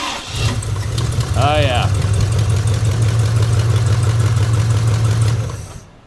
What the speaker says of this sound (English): Well, let's see if it'll start right back up.